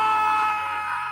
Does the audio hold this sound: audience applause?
no